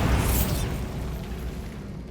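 A Bombarda blasting spell bursts in a Hogwarts Legacy fight, one loud close explosive boom with a bright crack at the start that rumbles and fades over a couple of seconds, no voices.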